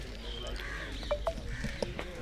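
Crows cawing at a large bird house at an ashram temple park in Haryana, India, with several harsh calls scattered over a steady outdoor hum, fairly close and mixed with background voices.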